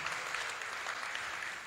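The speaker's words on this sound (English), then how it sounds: "Please, a big round of applause for our DG." A conference audience at a professional association's international meeting claps steadily, a dense, even patter of applause heard briefly without voices.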